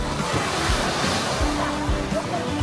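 Sea surf breaks on a beach at Gava near Barcelona during a family outing, a loud continuous wash of waves and wind with low thumps rolling through.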